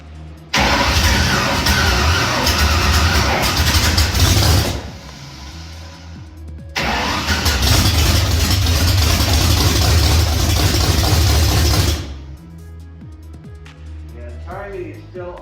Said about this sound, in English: I was just testing the starter to see if it would work or not